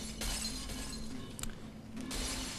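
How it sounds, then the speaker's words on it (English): Glass shattering in Portal 2 as a gel-coated bouncing cube smashes through a pane, a sharp crash followed by scattered breaking bursts over a steady game ambience. "It breaks the glass and escapes"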